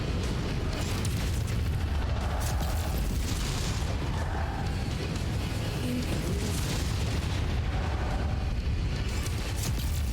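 Heavy AC-20 autocannon firing in bursts in Mechwarrior 5: Mercenaries, a dense, continuous barrage of loud booming shots and mechanical rumble filling the whole stretch with no pauses.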